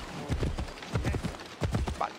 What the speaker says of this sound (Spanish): Vale, cojo el caballo para subir dos escaleras, ¿no?